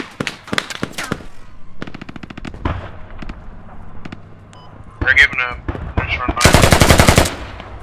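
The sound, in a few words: gunfire in video game Squad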